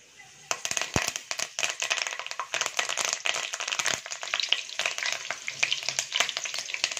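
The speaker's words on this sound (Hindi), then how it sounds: "इसके अंदर करी पत्ता डालेंगे।" Curry leaves hit about three tablespoons of hot oil for a red rice breakfast dish, bursting into a loud, close crackling sizzle that keeps spitting and popping steadily with stirring.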